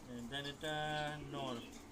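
Racing pigeons coo in a series of close, harmonic calls, a mated running pair of racers kept at a pigeon loft, with a short pause between bursts.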